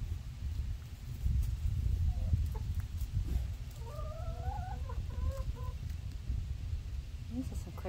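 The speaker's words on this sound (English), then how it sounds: "These are some crazy chickens." A small backyard flock of chickens clucks and chatters in short, rising calls at a moderate distance over steady outdoor background noise, with no talking.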